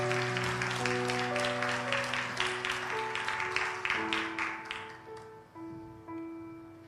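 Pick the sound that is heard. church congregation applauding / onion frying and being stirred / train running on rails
church congregation applauding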